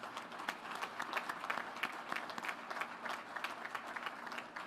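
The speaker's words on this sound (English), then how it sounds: "So a big round of applause for our soloist." Crowd applause for a Navy soloist at the christening of the ship John Lewis at NASSCO in San Diego, quiet and distant, with a steady patter of many hands clapping in an outdoor setting.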